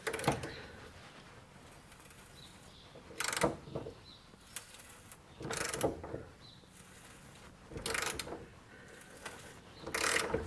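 A ratchet wrench turns a stubborn bolt while removing the rusted cab from an 86 Chevy K30 truck, heard as several separate bursts of rapid clicking with pauses between them.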